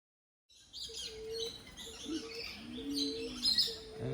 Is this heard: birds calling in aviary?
yes